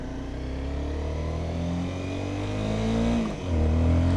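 Honda CBR 250 motorcycle engine revving hard at full throttle, a loud steady high-pitched drone close by that dips briefly near the end before climbing again.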